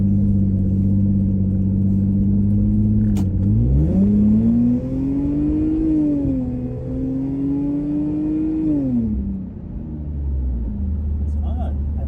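A Lexus GS300 with an upgraded exhaust pulls hard, heard from inside the cabin: a steady low engine drone rises in pitch through the acceleration, eases off, and settles back to a deep idle-like rumble.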